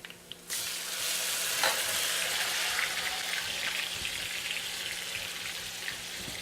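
Onions frying in a pan for a meat masala, browning lightly: a steady broadband sizzle fills the clip after a quiet half-second start, with a faint clink or two and no talking.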